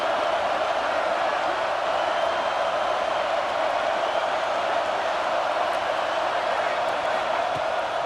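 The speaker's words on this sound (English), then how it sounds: "This dog crowd is off the leash, and they are coming after them, bringing noise on third down." A football stadium crowd at a Florida at Georgia game makes noise on third down: a steady, loud roar that holds without a break.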